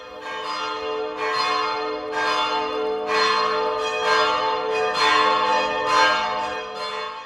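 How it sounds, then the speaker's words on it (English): The bells of St. Domnius Cathedral ring on a morning in Split's old town. They strike loud and resonant in a steady rhythm of roughly one stroke per second, each ringing tone overlapping the next, with no talking. "The bells from the St. Dominus Cathedral added music to the peaceful and beautiful morning."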